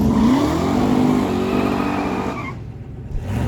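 All-wheel-drive BMW M4 Competition at a no-prep drag strip, a loud, close engine roar with a rising pitch that cuts off sharply and leaves a quieter tail, no voices.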